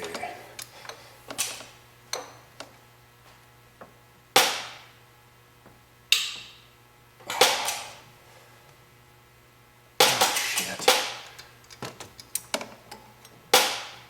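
Rusted bolts breaking off a vehicle make a series of sharp, isolated cracks and snaps, each ringing briefly before fading, spaced irregularly over a quiet background hum.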